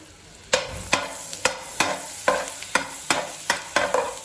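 Finely chopped garlic sizzling in butter and oil for prawn fried rice, with a steady fry punctuated by about nine sharp, regular spatula strikes against the pan, close and loud, no voices.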